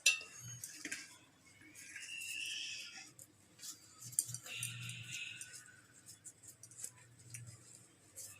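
Small pieces of torn chapati drop into a steel mixer jar in a home kitchen, giving quiet, scattered clinks and light rattles of dishes, with little talk.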